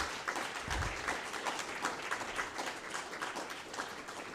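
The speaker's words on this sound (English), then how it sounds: "we should give a big round of applause for Johan and Daniel" Audience applause for two speakers after an academic talk on probing black holes, a steady wash of many hands clapping throughout, fairly even and moderately loud in a lecture room.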